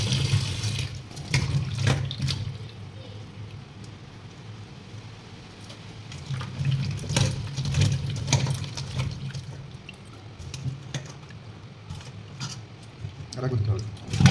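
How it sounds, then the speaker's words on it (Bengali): Water splashes and runs as freshly cut vegetables and greens are rinsed one by one in a kitchen, with bursts of sloshing and handling noises rising and falling against a low hum. "এবার কেটে রাখা সবজিগুলি সুন্দর করে একে একে ধুয়ে নিচ্ছি আমরা"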